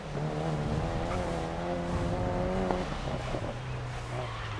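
A Mini race car in the GRID Legends video game fumbling a corner: a sustained, buzzy engine drone whose pitch holds and then sags, with a brief scuff of tire noise, steady and fairly loud throughout.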